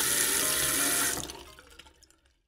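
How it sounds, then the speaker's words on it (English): Tap water running into a toy baby bottle at a sink, a bright steady rushing stream that stops after about a second, leaving a few faint drips and trickles. "Let's fill this up with water."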